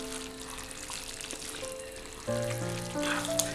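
Chicken and mixed vegetable aviyal-style curry stirred in a pot, soft bubbling sizzle with a faint scrape, steady and moderately close, then a sustained tonal hum entering toward the end.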